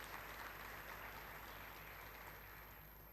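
Audience applause at a Newton International School Lagoon ceremony for the school departments, a steady wash of clapping heard softly and at a distance, continuing without a break.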